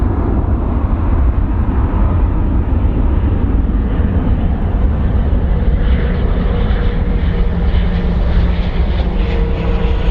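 A Southwest Airlines airplane takes off, its jet engines giving a loud, continuous roar that holds steady, close and unbroken for the whole stretch, with no voices over it.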